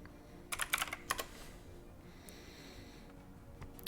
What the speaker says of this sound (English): Sorry if y'all can hear me typing.